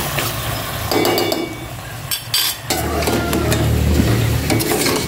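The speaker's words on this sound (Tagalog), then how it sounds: "Igisa ko itong maigi bago ko lagyan ng mga ricado" Food sautéing in a cooking pan before seasonings go in, with a steady sizzle, scraping stirs and occasional metallic clinks of a utensil against the pan, fairly close.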